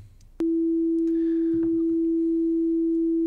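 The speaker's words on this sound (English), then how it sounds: "if any of you listening and watching haven't heard what a sine wave sounds like" A plain, steady sine wave tone switches on abruptly after a brief quiet moment and holds at one constant pitch. A few faint clicks and bumps sit underneath it.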